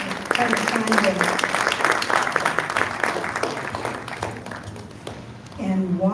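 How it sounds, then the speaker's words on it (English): An audience at a community symposium applauds, a dense, steady patter of clapping that thins out and fades after several seconds, followed by a voice. "So let's just clap for them because they're part of the ambassadors."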